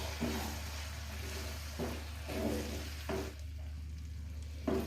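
Chicken filling with cream fries over a medium flame in a pan, a soft steady sizzle broken by a few stirring scrapes, fairly quiet and close, with no talking.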